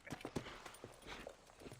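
Horse hooves clip-clop in the video game GunSlinger's Odyssey, a quick uneven run of a dozen or so soft hoofbeats, fairly quiet and close, with a trace of other game sound underneath.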